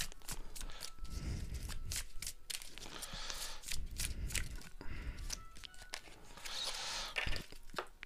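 Tarot cards being shuffled and laid out by hand, a close, soft run of riffling, slapping and sliding paper sounds lasting several seconds with no talk.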